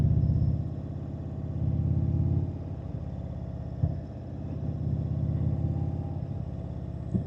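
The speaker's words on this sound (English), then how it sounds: "I just feel this engine's a little quieter and a higher pitch." An Indian motorcycle V-twin with a Rush Racing slip-on exhaust idles and blips, a close, loud throbbing rumble that swells and dips in a few pulses without any talk.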